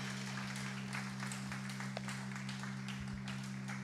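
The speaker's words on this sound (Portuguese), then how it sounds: "Dê uma salva de palmas ao Senhor Jesus." Congregation applause during a church service, a soft, continuous wash of distant clapping over a steady low electrical hum.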